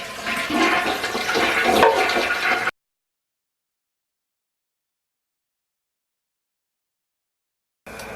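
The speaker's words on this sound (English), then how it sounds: "Now I'm going to flush the toilet." Toilet flushing in a guest bathroom: a loud, steady rush of water lasting under three seconds, followed by a long silence and then a brief return of the sound at the very end.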